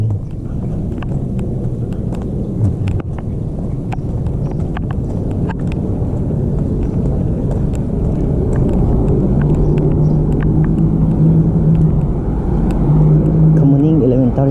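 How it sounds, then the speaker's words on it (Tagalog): Steady traffic on a city street beside an elementary school in Kamuning, Philippines, with a continuous low rumble of passing cars and engines, a rising pass near the end, and voices talking over it. "Mga sasakyan ito."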